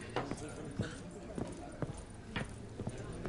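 Horse hooves clip-clop in The Witcher 3: Blood and Wine on PS4 Pro, a quick uneven run of hoofbeats heard under speech.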